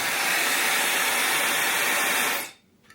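A T3 Aire IQ blow dryer runs with a loud, steady, close airy whoosh, then shuts off abruptly near the end, leaving near silence.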